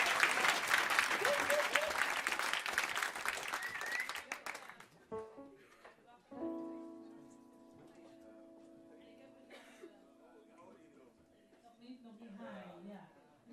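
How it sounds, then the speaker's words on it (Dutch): Audience applause at a Frisian music event, loud and dense at first, then fading out within about five seconds, followed by a host speaking over soft instrumental music. "dames en heren, applaus."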